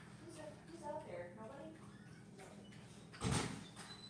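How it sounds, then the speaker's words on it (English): A house door being shut, one short solid thud of the door closing near the end, after soft indistinct talk nearby. "I have to shut the door."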